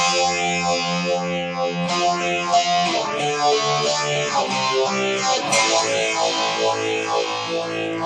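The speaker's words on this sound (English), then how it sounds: "I'm going to get Phaser, another modulation effect" A distorted electric guitar plays sustained notes through a phaser, its sweeping, whooshing tone rising and falling in a steady repeating cycle.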